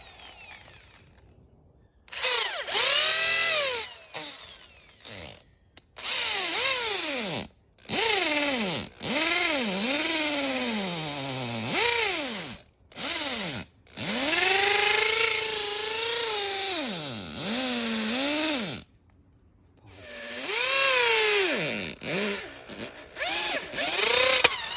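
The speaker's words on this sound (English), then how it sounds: "Hitachi hammer drill. Now this isn't a cordless because I want as much power as I can get" A corded Hitachi hammer drill drilling into a tree trunk whines in repeated bursts, pitch rising and falling as it bogs down and revs up, with short pauses between runs.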